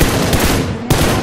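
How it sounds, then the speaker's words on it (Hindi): Dense gunfire in the video game PUBG Lite, loud rapid automatic bursts that run continuously with a sharp extra shot near the end, close and dominant with no talk. "वो भाई गोली आ रही है।"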